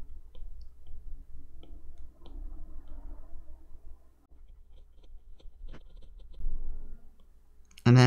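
Light clicks of data being keyed into a calculator emulator, a quiet irregular series of small taps close by, ending in a brief louder burst.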